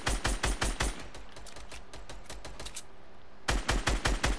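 A machine gun sprays fire in a battle royale video game: two fast, loud bursts of rapid shots separated by a short lull of quieter background noise.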